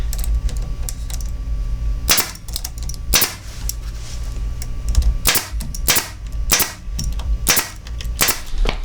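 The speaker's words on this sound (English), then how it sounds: "we're going to put a staple in approximately about 6 inches from the end" A staple gun fires staples into pool table cloth over slate, each shot a sharp loud snap; about nine close bursts come at irregular intervals over a steady low background hum, with no voices.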